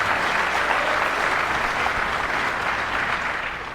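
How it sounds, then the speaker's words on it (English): Dense, sustained applause from a pool crowd at the 2017 Mosconi Cup final day fills the hall, loud and even throughout, tapering slightly at the end. "Crowd shows their appreciation for that shot."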